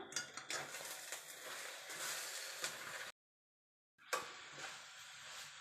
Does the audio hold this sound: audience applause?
no